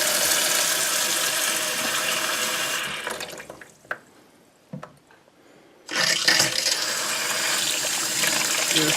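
A newly installed kitchen faucet runs hot water into the sink, a loud steady gushing stream that cuts off for a few seconds with small clunks before flowing strongly again.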